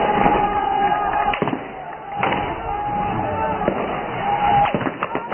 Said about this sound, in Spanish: se escuchan disparos